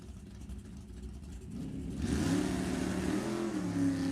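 Drag racing cars launch off the line at the Pacific National Open, a steady engine drone swelling into a loud, rising roar of revving engines from about two seconds in, with no talk over it.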